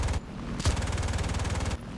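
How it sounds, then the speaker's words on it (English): Machine guns on an FW-190 A-5 fighter fire in War Thunder in rapid sustained bursts, a dense rattling stream broken by a brief pause and a single boom. "I'll use the machine guns for this one"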